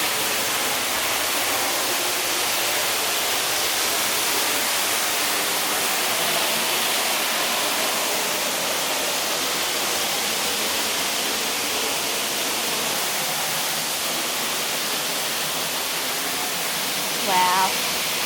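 Crystal Showers waterfall in Australia roars as a steady, loud broadband rush of falling water for the whole stretch, with a brief voice near the end.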